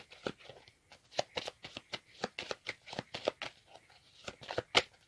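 Crisp, repeated riffling of a deck of playing cards being shuffled during a card reading, a rapid series of sharp flicks, close and fairly quiet, with no talk.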